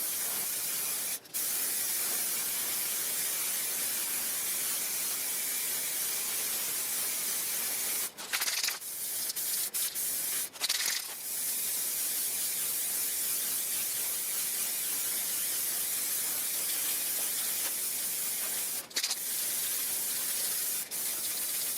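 A spray can hisses steadily as it coats a car hood whose old clear coat is flaking, a long continuous spray broken by a few brief pauses between passes, close and fairly quiet.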